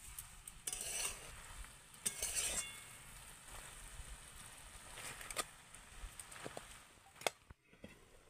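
Hilsa fish head and cabbage curry being stirred in a pan: soft sizzling under repeated scraping strokes of a spatula, quiet and close, with a few metal clinks.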